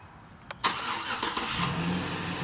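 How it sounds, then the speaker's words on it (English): A 2009 Chevrolet Silverado LT Z71 4x4 crew cab pickup truck engine fires up by remote start: a short click, then a brief crank catching into a steady, close idle that runs to the end, with no talk. "This one is equipped with the optional remote engine start. You just lock it, push and hold this button,"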